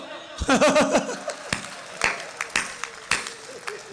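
Scattered claps and chuckles from the audience at a Hindi hasya kavi sammelan comedy poetry event, a voice speaking at the start before sparse, separate hand claps ring out.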